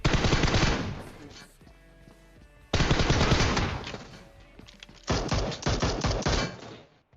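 Bursts of rapid automatic gunfire in PUBG Mobile, three long volleys separated by short pauses, loud and close.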